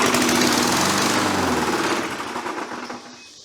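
A Murray push mower with a Tecumseh engine, long unused and burning off built-up crud, runs with a loud, rough, rattling drone that fades somewhat toward the end, with no talking over it.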